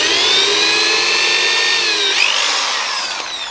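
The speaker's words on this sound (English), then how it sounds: "We do a pilot hole." A power drill boring a pilot hole into a piece of wood for a DIY plant pot stand, a steady high whine held close and loud that dips in pitch briefly as the bit bites, with no talk.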